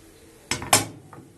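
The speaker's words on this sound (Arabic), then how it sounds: "حطينا الطاسة وحطيت فيها معلقتين زيت" A frying pan is set down on a home gas stove with oil, giving two sharp metallic clanks close together followed by a fainter clink, with quiet room tone before and after.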